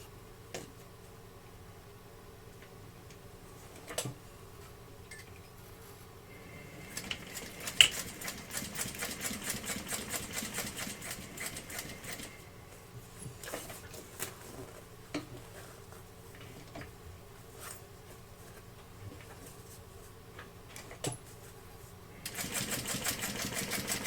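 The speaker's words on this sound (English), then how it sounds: "now we can sew it together at a 3/8 inch seam allowance" A sewing machine stitches a seam in bursts of rapid mechanical whirring and ticking, with quiet pauses and clicks between runs and a final stretch of fast stitching.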